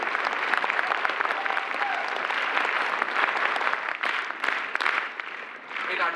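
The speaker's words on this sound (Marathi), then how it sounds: "जोरात टाळ्या व्हायला पाहिजे." Loud, sustained audience applause fills a crowded hall at a Navi Mumbai road safety campaign event, steady clapping from many hands with no talk heard over it.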